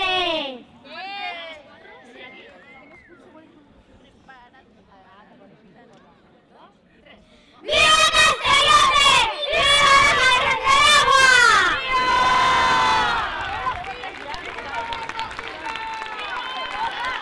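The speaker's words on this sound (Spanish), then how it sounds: "Preparados para gritar muy fuerte." A crowd of children and adults at a festival proclamation of child majas in Castellote bursts into loud, sustained shouting and cheering on cue, after a quieter stretch of speech and scattered voices.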